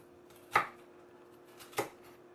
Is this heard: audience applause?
no